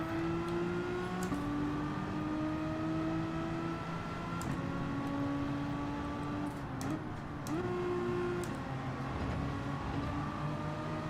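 Race car engine in a Gran Turismo 7 daily race at Brands Hatch, revving and climbing through the gears with tonal whine, each shift audible as the pitch drops and rises again, alongside other cars.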